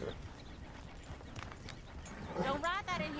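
Horse hooves clop in Red Dead Redemption 2, soft and intermittent over background noise, with a brief whinny-like sound and voices talking near the end.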